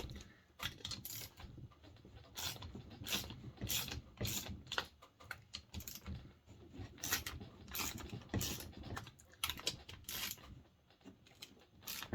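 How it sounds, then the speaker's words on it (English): Socket ratchet with an extension working on a Poulan Pro 255 chainsaw during disassembly, giving bursts of rapid clicking close up, repeated in short runs with brief pauses. "that's gonna need a ratchet"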